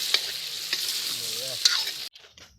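Duck meat fries and is stirred in a pan for a New Year feast, giving a steady close sizzle broken by scraping spatula strokes, with a few low clunks before it cuts off near the end.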